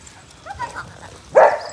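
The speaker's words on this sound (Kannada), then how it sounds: "ಇಲ್ಲೊಂದು ನಾಯಿ." At home, a dog gives one short, sharp bark near the end, louder than the faint household sounds that come before it.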